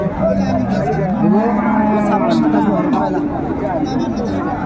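Cattle lowing at a crowded village livestock market in Raniganj haat, where cows with calves are sold; moos rise over constant loud chatter and bargaining voices close by.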